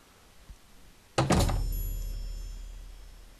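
A wooden house door in Oblivion swings open with a sharp double thunk and clack, followed by a long low rumbling tail that fades slowly; no talking over it.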